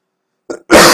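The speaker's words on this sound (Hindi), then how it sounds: "इसीलिए खांसी आ रही है" A single short cough from someone who is unwell, a brief rough throat burst followed by a louder, harsher exhalation, close and alone in otherwise silent surroundings.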